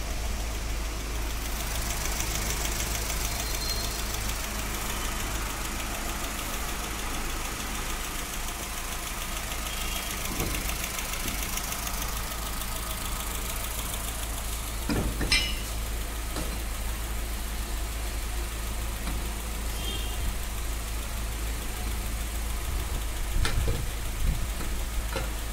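A Chevrolet UVA car engine, worked on for an oil leak, idles steadily in a workshop with a low constant rumble and a few brief clanks and knocks, no voices.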